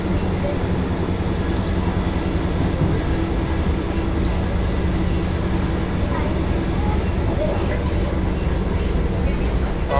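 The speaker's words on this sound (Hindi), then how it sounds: "अब आई है इंटरसिटी।" An Intercity express train rolls through a station with a loud, steady rumble and rattle of carriages, filling the whole stretch without a break.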